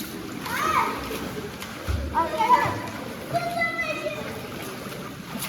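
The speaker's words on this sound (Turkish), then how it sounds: "Evet su savaşı başladı." Water splashing during a family water fight in a pool on a winter holiday in Antalya, intermittent splashes mixed with children's shouts and voices talking throughout.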